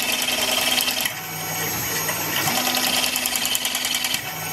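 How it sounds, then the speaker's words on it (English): A drill whines steadily through metal on a running Tormach Rapid Turn lathe with gang tooling, its pitch dipping and rising as the bit cuts and begins to break through the bore. "You can hear it there, it's just starting to break through the bore."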